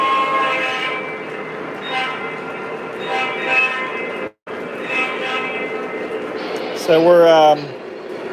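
Lionel model train diesel locomotives running on a layout, with a steady electric motor hum and rolling rhythm, a brief dropout and a horn blast near the end, while someone speaks briefly.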